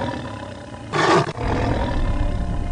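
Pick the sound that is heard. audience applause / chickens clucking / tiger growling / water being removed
tiger growling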